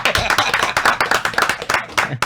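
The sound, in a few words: applause for guest journalist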